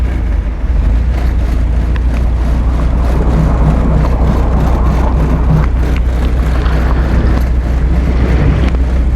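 An amphibious Volkswagen Beetle leaves the water in first gear, its wheels spinning on wet grass, heard as a loud, steady engine roar with heavy wind buffeting that stays constant throughout.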